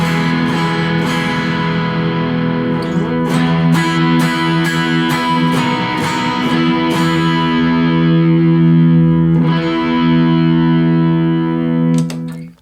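An electric guitar plays through a modified Green on Green effects pedal, giving a thick, distorted, sustained tone with strummed chords and ringing notes, close and loud, with no talking.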